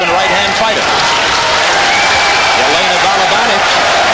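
Dense, steady applause and crowd noise fill a boxing arena during the Lennox Lewis versus Zeljko Mavrovic fight, a continuous loud wash of clapping without breaks.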